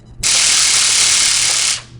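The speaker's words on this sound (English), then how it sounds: "there was a demonstration of the sound of the stun gun" A stun gun is triggered in a courtroom demonstration, giving one loud, harsh, continuous electric crackle that lasts about a second and a half, then cuts off sharply.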